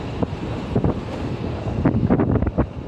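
Cool wind off Chilika lake near Balugaon, Odisha, buffets the microphone in a continuous low rumble, with stronger gusts swelling near the end and no one talking.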